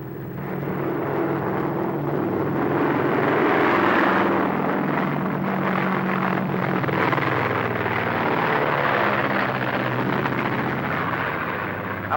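A propeller airplane drones overhead in a 1939 film comedy, its engine rumble swelling to a peak midway and then slowly fading, loud and continuous with no voices.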